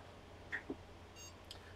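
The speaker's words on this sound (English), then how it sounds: "BIOS beep, that's a good thing." A computer BIOS beep sounds at power on of a mining rig, a single short faint tone, followed by a couple of soft blips against quiet fan hum, with no talking.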